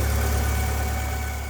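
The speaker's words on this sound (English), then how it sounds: "The engine starts up fairly fast as well, so you can tell it's reasonably healthy" Alfa Romeo 145 Cloverleaf with 111,000 miles idling just after starting, a steady close engine hum with an even low pulse and faint higher whine, heard alone.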